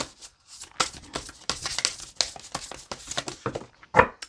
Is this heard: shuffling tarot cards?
yes